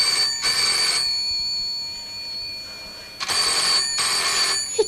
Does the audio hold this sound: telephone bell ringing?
yes